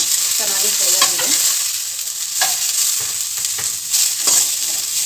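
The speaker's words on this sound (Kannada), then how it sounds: "ಸೊ ಫ್ರೈ ಆಗ್ತಾ ಇದೆ." Food fries in a pan with a bright, steady sizzle while a spoon scrapes and stirs in several distinct strokes, near and fairly loud, with no voices.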